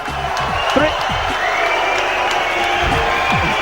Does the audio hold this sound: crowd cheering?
yes